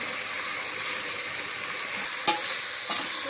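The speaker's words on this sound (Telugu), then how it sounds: "బాగా కలుపుకోవాలి" Peas and ginger garlic paste being stirred in a pot for veg biryani, a continuous soft sizzle with a couple of light scraping clinks from the spoon, no voices.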